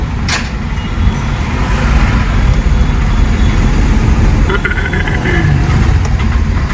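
A car engine idles while stopped in traffic on a driving-school lesson, giving a steady low rumble that runs close and unbroken for the whole stretch with no talk.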